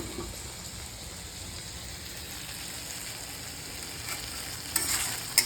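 Food roasts in a pan with a steady, even sizzle and crackle that runs throughout, with a couple of faint clinks toward the end.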